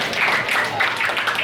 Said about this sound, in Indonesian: Sekali lagi beri tepuk tangan buat Ustaz Rizky Muhammad Moin.